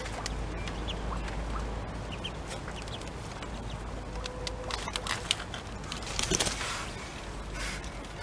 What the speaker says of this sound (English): Hello you silly duck.